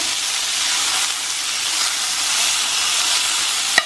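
Onions sizzle in olive oil in a pan, a steady broadband hiss that holds evenly throughout, with a single brief clink near the end and no voices.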